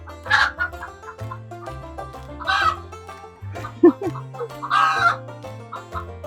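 Ducklings splashing in a small tub, with nearby poultry clucking and calling in several loud bursts, close and clear, no talking.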